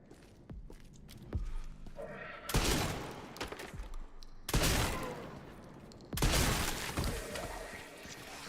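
Enemy gunfire in Resident Evil: Requiem, with several loud, sudden bursts of crackling shots and shattering impacts separated by quieter stretches of footsteps and movement.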